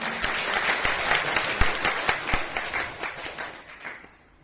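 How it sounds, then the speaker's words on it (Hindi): Children clapping together in welcome at a home opening, a fairly soft, uneven patter of many small hands with a few sharper individual claps standing out, tapering off at the end. "पीछे वाले बाबा के बच्चे भी ताली से, बहुत ताली से स्वागत करेंगे, अभिनंदन करेंगे।"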